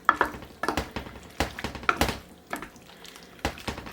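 Chicken pasta mixture being stirred in a baking dish, with a few irregular scraping clinks and wet squelching strokes up close, no voices.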